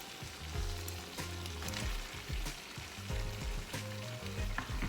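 Onions sizzle and crackle in a hot pan for a beans and beef stir fry, a steady frying hiss with scraping stirs and clinks throughout.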